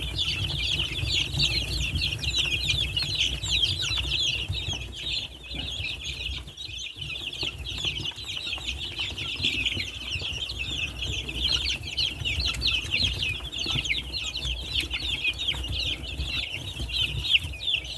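A crowd of 19-day-old chicks chirps continuously at close range, a dense high peeping chorus with occasional clucks over low background rumble, no talk.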